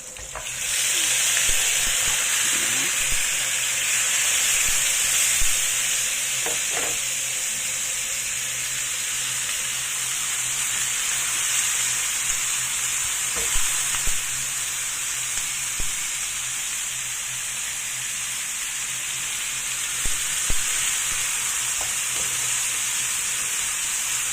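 Chicken pieces frying in a pan with browned aromatics, a loud continuous hiss and sizzle with occasional small pops and stirring clicks, steady throughout with no talking.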